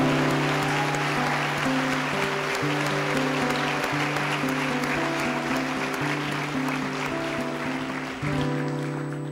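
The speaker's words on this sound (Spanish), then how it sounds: "Un aplauso para el cuarto año medio A." Audience applause at a school graduation ceremony, a steady wash of clapping blended with sustained musical tones playing throughout.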